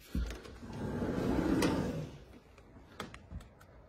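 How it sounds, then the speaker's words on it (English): Sliding door opening in a country house with a decking area near the Cromarty Firth: a low rumbling roll builds for about two seconds, then a few soft knocks and clicks follow, close and alone. "So we've got sliding doors here to."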